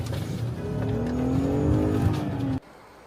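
Car revving hard and accelerating away off the road during a street protest, a loud rising engine whine with tire noise that cuts off abruptly near the end, leaving quiet background.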